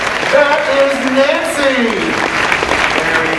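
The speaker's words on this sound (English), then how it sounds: "Let's have a huge round of applause for our very brave volunteers." Audience applause for stage volunteers at a special effects stage show, broad clapping under a loud voice and a high, sliding vocal exclamation, with other talk riding on top.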